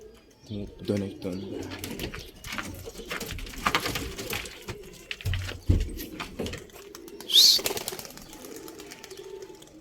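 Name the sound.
pigeons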